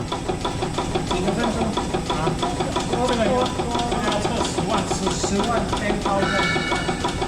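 A carbon bike frame fatigue testing machine cycles steadily, its motor-driven mechanism producing a rapid, regular mechanical chatter and hum, with voices talking over it.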